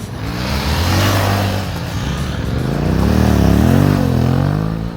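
An off-road vehicle drives around in a forest, its engine droning nearby and rising and falling in pitch as it revs and moves.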